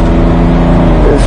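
Car engine straining under acceleration, held back by a boost pressure sensor fault that delays the pickup, a loud close interior drone that rises slightly near the end.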